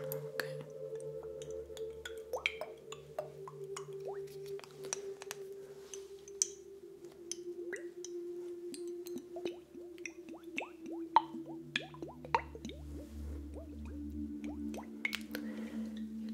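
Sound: aftershave lotion being dispensed

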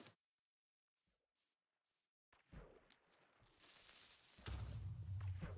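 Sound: TNT explosions in water, Minecraft video game

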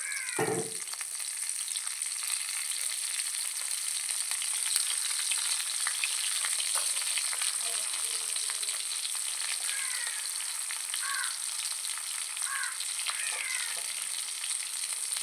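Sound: tempering onion, dried chili and fenugreek in hot oil

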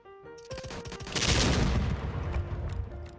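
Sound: gunfire in Roblox video game

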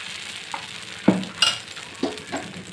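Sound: spinach dosa sizzling in oil on the pan

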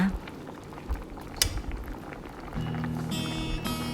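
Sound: tom kha soup with fish boiling in a pot

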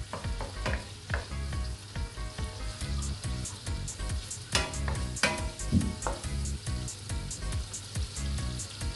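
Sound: chicharon (pork cracklings) frying to render fat

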